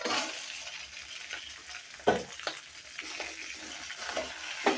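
Pasta being stirred as it fries in a pan, with steady sizzling under a series of scraping stirs and a couple of sharper knocks of the utensil against the pan.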